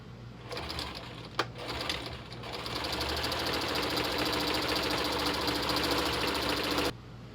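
Sewing machine stitching a seam on a clown Lolita outfit, a steady, fast mechanical whir that runs for several seconds after a brief start and stops abruptly near the end, with no talking.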